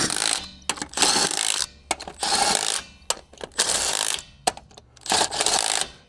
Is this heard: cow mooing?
no